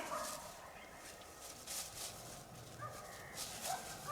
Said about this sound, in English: More chickens. Rooster, actually, two roosters.